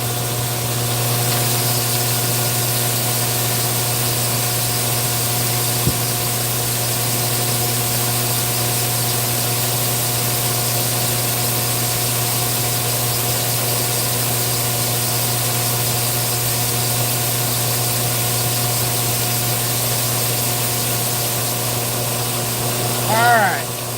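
A seed treater machine with its auger running, a loud, steady mechanical drone and hum with constant tonal whine throughout, and a faint voice speaking over it.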